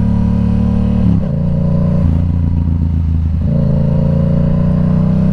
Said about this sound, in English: that high RPM right before red line